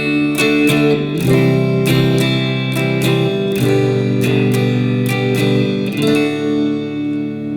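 An acoustic guitar strums open chords in a relaxed, even pattern, each stroke ringing clearly up close, with no talking.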